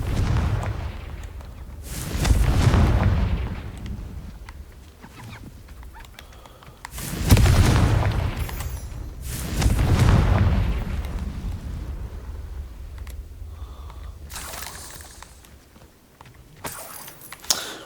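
In the Hogwarts Legacy video game, the Confringo blasting curse sets off several booming explosions at irregular intervals. Each burst is loud and close and decays into rumbling debris, with quieter game sounds between the blasts.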